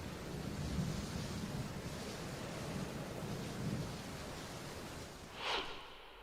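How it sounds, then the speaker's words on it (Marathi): A steady, heavy roar of pouring rain in Nagpur fills the air, with one brief sharper whoosh near the end. "उपराजधानी नागपुरात तुफान पाऊस सुरू आहे"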